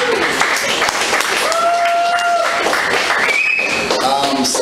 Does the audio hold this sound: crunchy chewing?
no